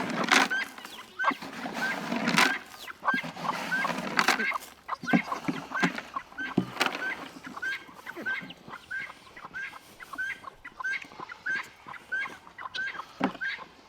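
Repeated high peeping calls from a baby chick run steadily throughout, with soft clucking from a hen and some background talk mixed in; the peeps are clear and fairly close.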